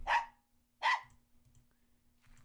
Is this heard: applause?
no